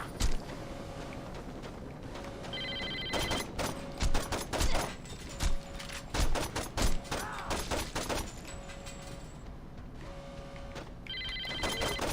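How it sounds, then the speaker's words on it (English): A phone rings repeatedly in the Saints Row 2 video game, recurring electronic ring bursts cutting through heavy gunfire and loud action, with bursts of shooting between rings and no talk over them. "answer the fucking phone"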